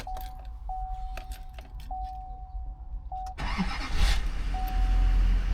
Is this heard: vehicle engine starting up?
yes